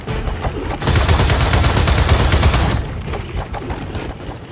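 Sustained turret gunfire in Gears of War 4 roars for about two seconds as a dense continuous burst, loud and close, then falls back to scattered distant shots and battle noise.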